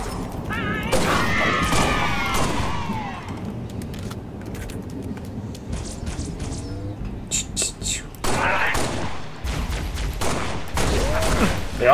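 Alien Elites in the shooter game Halo Reach fire weapons in quick bursts amid a chaotic firefight, with rapid crackling shots, energy whooshes and booms, some near and some farther off, while a voice murmurs low underneath.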